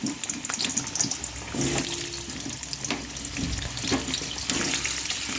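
Tap water runs steadily into a sink while desi chicken is washed clean, a continuous splashing rush that shifts in intensity as the flow is disturbed.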